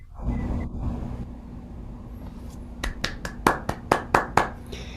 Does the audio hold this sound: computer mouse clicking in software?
no